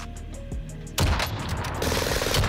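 Rapid gunfire from a Warzone tournament match: a few sharp single shots, then a loud burst of automatic fire that keeps rattling close and dense, with no talk.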